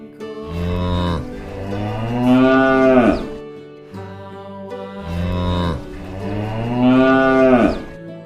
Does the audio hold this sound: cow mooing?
yes